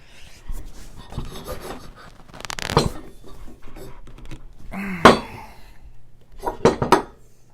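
Metal-on-metal scraping and clunks from a fastener on a Vivo monitor stand for an ultrawide monitor being forced loose, with irregular strained bursts and a few sharp clinks close by over a quiet room.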